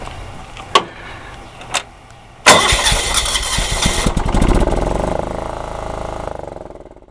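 A John Deere 180 yard tractor engine cold starts: two short clicks, then the engine catches and runs with a loud, uneven chug, gradually settling toward a steadier idle.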